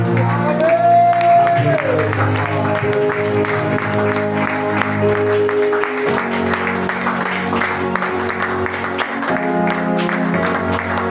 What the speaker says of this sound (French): Applaudissez avec des cris de joie.